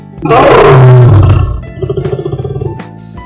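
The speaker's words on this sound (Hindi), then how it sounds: "तभी अचानक पास के जंगल से एक असली शेर की जोरदार दहाड़ गूंजी।" A lion gives one loud, close roar that swells and fades over about a second, followed by a series of rhythmic grunting huffs, as a dramatic sound effect set in a forest.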